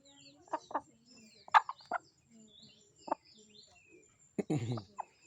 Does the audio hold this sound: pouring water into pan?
no